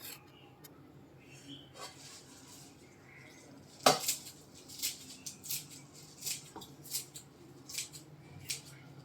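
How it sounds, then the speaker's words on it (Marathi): Fresh fenugreek (methi) leaves cut coarsely with a knife on a board at home, a run of soft, irregular chopping taps, quiet and close, with a brief louder knock near the start. "ही आता मी बारीक कट करून घेते."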